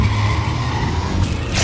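Car engine roaring with skidding tires during an animated chase, a steady loud drone with a brief screech near the end.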